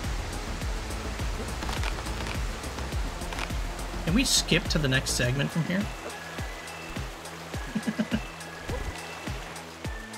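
A waterfall in a climbing video game rushes as a broad, steady roar for several seconds before thinning into scattered splashes, with someone talking over it.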